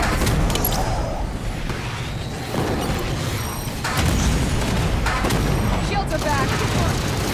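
Hostile weapon fire and explosions in a Halo 5 12v12 Warzone match on Raid on Apex 7 rumble as a loud, busy mix of crackling shots, mechanical clatter and heavy booms, with voices calling out now and then.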